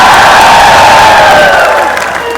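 A huge crowd roars and cheers at a political rally in a market, a loud, dense wall of shouting and applause that holds steady and only slightly eases toward the end.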